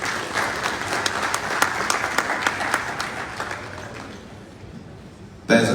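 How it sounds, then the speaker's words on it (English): Round of applause from a conference audience at a petroleum exhibition, dense steady clapping for several seconds that thins and fades toward the end, with no talk over it. "another round of applause for him"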